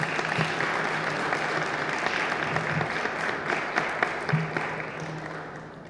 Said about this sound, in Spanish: a quien solicito brevemente un aplauso como reconocimiento a su trayectoria